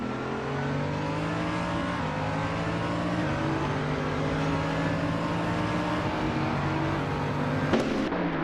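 LMP3 prototype race cars, including a 2011 Cytec Z 1110, roar at the Barbagallo circuit in a simulated race, engines rising and falling in pitch through gear changes with a whooshing pass near the end.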